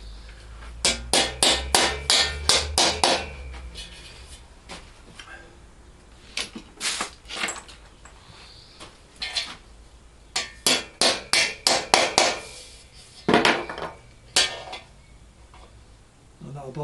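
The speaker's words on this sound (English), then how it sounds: "That will just take a bit of tapping in." A bung is tapped into a rear fender with rhythmic bursts of close, sharp hammer-like knocks, several quick runs separated by short pauses and softer handling sounds.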